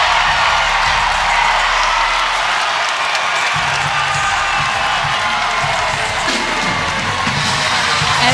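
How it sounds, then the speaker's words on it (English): A large crowd at a women's college volleyball match between Kansas and Miami, on its feet cheering and shouting in a loud, continuous roar that stays dense and sustained without pause. "The crowd on its feet."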